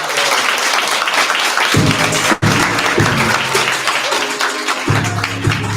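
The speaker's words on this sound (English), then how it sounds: "Everybody clap it up, make some noise for Durant one more time." An audience at a commencement ceremony applauds loudly and steadily, a dense wash of clapping with cheers and low thumps underneath, briefly dipping before resuming.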